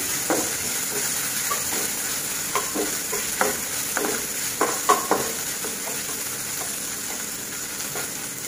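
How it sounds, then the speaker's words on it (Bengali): Ginger paste fries in a pan for pasta, giving a steady close sizzle with soft crackles and intermittent spoon scrapes against the pan, moderately loud and without talking. "আদাটা একটু ভেজে নিচ্ছি"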